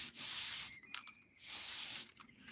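Two short, loud bursts of graphite lubricant sprayed from a can into the lock of a 1998 Mazda B2500 pickup, each hiss lasting under a second, separated by quiet fiddling.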